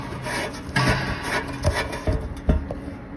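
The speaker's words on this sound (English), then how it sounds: "I'll have to sand that, I think, but it's still there, look." Sanding a part from a BMW N43 engine on a workbench: close, rough rubbing strokes in short irregular bursts, with no voices.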